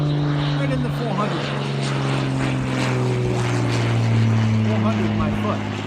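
A propeller airplane flies low overhead, roughly 100 feet up, over Eleuthera. Its droning engine stays loud and steady, its tone slowly shifting as it passes, and voices can be heard underneath.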